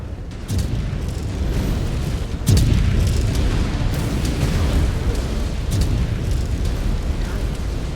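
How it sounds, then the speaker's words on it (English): A missile explosion in the Mechwarrior 5 mech combat game bursts out as a loud boom at about two and a half seconds, over a dense, constant roar of battle noise and rumble. "Incoming missile."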